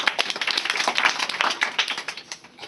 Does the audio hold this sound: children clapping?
yes